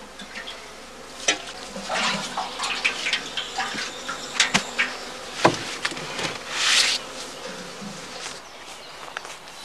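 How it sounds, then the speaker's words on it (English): Honeybees hum at a straw skep baited with sugar syrup outdoors, a steady buzz with occasional louder passes of single bees, plus scattered knocks and rustling close by. "A splash of syrup inside the skep aims to lure the bees down to the food supply."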